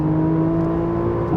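Nissan GT-R Nismo, a 600 PS car, accelerating on the Lausitzring start-finish straight, a loud steady engine drone with strong tonal harmonics and little change in pitch.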